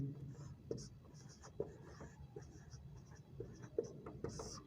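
Writing out definitions during a chemistry lecture, with soft pen or chalk strokes scratching in short bursts at close range, faint and mixed with low speech.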